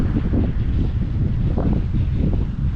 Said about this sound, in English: It's just getting kind of windy, which kind of sucks.